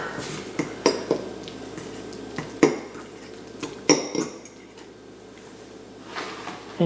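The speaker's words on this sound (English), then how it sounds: "Okay, gonna mix that up a bit." Metal spoon clinking and scraping in a bowl while mixing a fresh herb garnish for whole oven-baked red snapper, sharp irregular taps and clatters close by, with a scraping stir between them.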